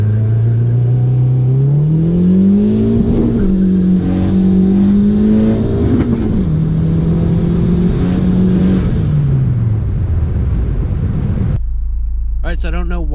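A turbocharged D16Y7-swapped Suzuki Vitara accelerates hard through the gears, the engine note climbing, dropping at each shift and climbing again, loud and close before it cuts off abruptly.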